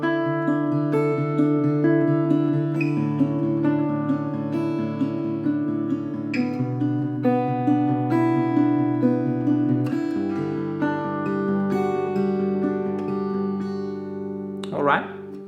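A guitar strums different chords with varied extensions and a rhythmic pattern, sustained ringing chords played close and clear, changing harmony around the middle and ending with a brief scrape.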